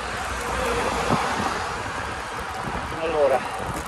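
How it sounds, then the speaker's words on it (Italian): Wind buffets the microphone while riding a BMX outdoors with a tailwind, a low, continuous rumbling gust that rises and falls, with someone talking over it. "Vento a favore qua adesso"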